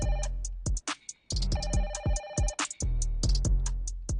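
A phone plays a melodic ringtone of choppy, rhythmic electronic tones with bass thumps. It runs steadily and close by, with short gaps.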